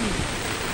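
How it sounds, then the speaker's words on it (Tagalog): Floodwater rushes through a street canal during heavy rain and strong wind in Sunvalley, Parañaque, a loud steady broadband roar with no pauses. "Lakas ng tubig, guys. Oh. Tubig to sa kanal. Aapaw na to"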